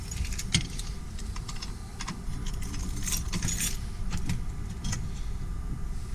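Keys jangle and clink steadily and close by for several seconds, with small metallic rattles and a faint vehicle hum beneath, no voices.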